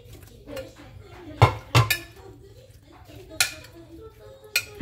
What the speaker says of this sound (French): On mélange bien tout ça.